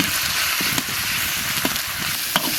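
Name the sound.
stir-frying beef with scallion, ginger, dried chilies, Sichuan pepper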